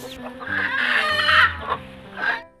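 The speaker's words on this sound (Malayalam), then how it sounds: "ഇതൊക്കെയാണ് കേട്ടോ ഞങ്ങളെ വീട്ടിലുണ്ടായിരുന്ന കോഴി" Chickens cluck and squawk up close in a loud, drawn-out burst, followed by a couple of shorter clucks.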